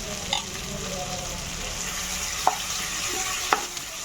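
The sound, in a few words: ginger garlic paste frying with tomatoes and onions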